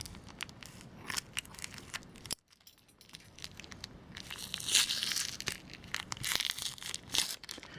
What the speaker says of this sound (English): Now all we have to do is to take out the tape